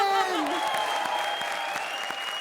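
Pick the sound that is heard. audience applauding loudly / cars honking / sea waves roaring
audience applauding loudly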